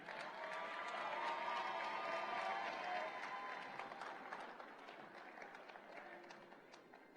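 An audience at an awards ceremony applauds, a dense, sustained burst of clapping that swells early and then gradually thins out and fades.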